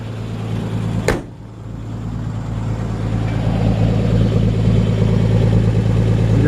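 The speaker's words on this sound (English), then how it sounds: "let you hear the engine running." A 1948 Ford F1 truck engine idles with a steady low rumble after a brief click, holding an even, unhurried drone with no talking.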